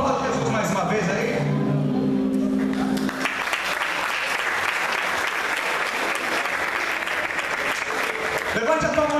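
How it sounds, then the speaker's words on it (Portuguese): A church congregation applauds loudly and steadily at a gospel CD launch night, the clapping filling the room after a brief stretch of music and voices at the start. "Aplauda Jesus mais uma vez aí."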